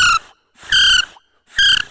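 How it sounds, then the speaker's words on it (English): A blade of grass blown as a whistle gives three loud, shrill screeching bursts, each a fraction of a second long and separated by brief silences, very close. "you can turn it into a really loud screeching whistle"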